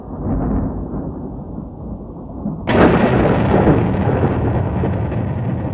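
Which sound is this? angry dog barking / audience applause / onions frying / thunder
thunder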